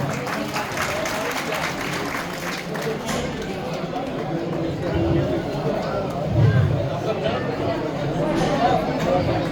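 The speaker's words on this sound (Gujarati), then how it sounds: "પિતાર્થ આપણે તાળીથી વધાવીશું." Audience at a temple anniversary festival prize-giving applauding a winner, scattered clapping mixed with crowd chatter and a voice over a loudspeaker, moderately loud and continuous.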